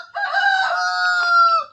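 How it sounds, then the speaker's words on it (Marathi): A rooster crows once, close and loud, a full drawn-out call on a village farm in Guhagar. "आमच्याकडे कोंबडा बघा."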